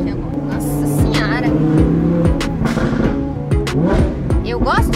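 An Audi R8 sports car driving, its engine roaring loud and close with rising and falling revs and brief tire squeal, while people talk over it.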